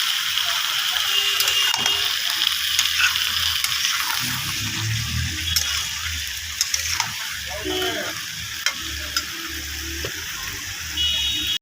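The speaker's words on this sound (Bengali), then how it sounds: "এখন আমি টমাটোটাকেও দিয়ে দেবো একসঙ্গে।" Tomatoes go into a pan of frying mixed vegetable sabji, a close, steady sizzle with a few clinks and scrapes as someone talks over it.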